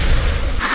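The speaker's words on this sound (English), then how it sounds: "I can fire magic" A magic blast fired in the VR game Natural Magic lands as one short, heavy boom, a deep rumbling burst that fills the moment at close range, with no voices over it.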